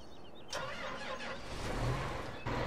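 An auger tractor engine in a farming game starts up and settles into a moderate mechanical hum, with a brief surge partway through. The sound is fairly faint overall.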